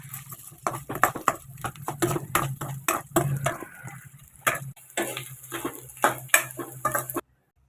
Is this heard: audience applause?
no